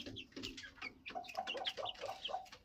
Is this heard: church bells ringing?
no